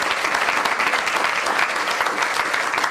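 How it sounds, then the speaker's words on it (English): Audience applause at a university debate between Paris-Sud and Descartes: dense, even clapping from a room of people, loud and sustained throughout with no talk. "So a big round of applause."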